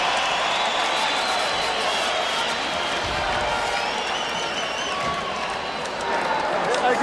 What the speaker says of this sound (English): listen to the reaction of the crowd here at the Mandalay Bay Event Center.